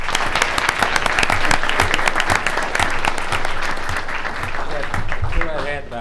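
Audience applause at a commission meeting fills the room, a loud continuous patter of many hands clapping, with voices chattering faintly underneath toward the end.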